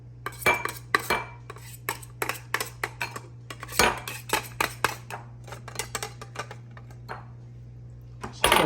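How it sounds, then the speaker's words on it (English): Chopped egg gets scraped off an OXO Good Grips vegetable chopper for egg salad, a run of sharp close clicks and scrapes of utensil against plastic in irregular bursts over a faint steady hum. "You need to get in there and just scrape the stuff off of it."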